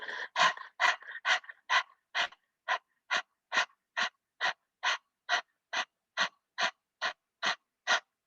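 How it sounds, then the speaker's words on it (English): A person doing dog panting breath in a Kundalini yoga exercise, open-mouthed with tongue out: about twenty quick, evenly spaced, breathy pants, close and fairly loud with no voice over them. "It's only a minute of dog panting breath."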